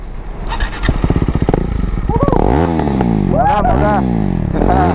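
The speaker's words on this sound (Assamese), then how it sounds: "অলপ এক্সজষ্ট চাউণ্ডটো শুনাই দিয়া" A new motorcycle's exhaust revs loudly and close by, the engine pitch climbing and falling in repeated throttle blips over a steady idle, with people talking nearby.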